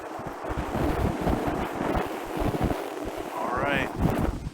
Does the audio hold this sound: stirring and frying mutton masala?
no